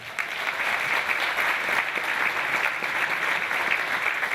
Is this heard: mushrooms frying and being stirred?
no